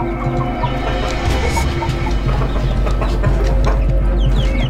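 A flock of chickens clucks continuously near the microphone, with thin high peeping from chicks running over the hens' lower clucks, loud and busy throughout.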